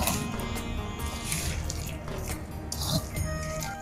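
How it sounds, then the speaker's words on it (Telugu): Potato and onion pakoda batter being kneaded by hand without added water gives soft wet squishes and sticky slaps, close and quiet, in an irregular rhythm. "చూడండి పిండి అయితే మనం పకోడీ కోసం ఇట్లా కలపాలి"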